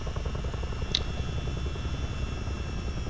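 A Miltech CH-47D twin-rotor Chinook helicopter in Microsoft Flight Simulator: a constant loud rotor and turbine drone with a steady fast chop, heard alone and unbroken.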